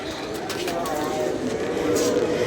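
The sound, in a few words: pigeons cooing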